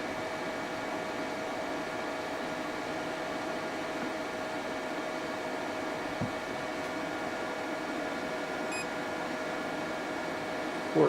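A steady microwave oven hum drones on without change, the oven drawing 1740 watts from a Bluetti AC200P power station, ending with a small click near the close.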